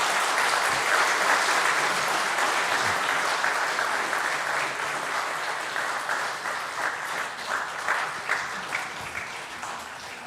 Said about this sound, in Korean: 우리 아이들이 인사하고 들어가실 때 큰 박수로 축하해 주시기를 바랍니다